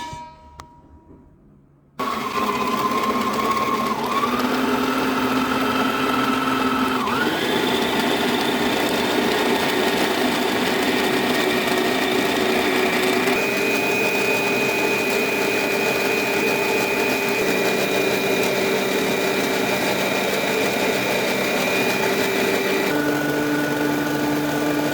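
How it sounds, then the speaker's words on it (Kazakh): An electric mixer is switched on and beats butter and sugar for kurabye cookies, starting abruptly after a quiet moment and then whirring steadily and loudly, its pitch shifting several times as the speed changes, with no talking. "Қазір миксерді қосамын."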